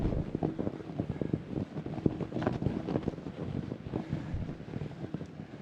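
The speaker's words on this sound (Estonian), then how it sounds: "No praegu oli selline kerge vastutuule lõik või niuke pool pähe tuul" Light headwind buffets the microphone on a river boat trip, a faint, gusty rumble with soft splashing beneath and no voices.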